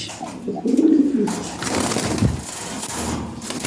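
Lahori pigeons coo close by, one low throaty coo standing out early, followed by softer rustling and faint further cooing against a light background.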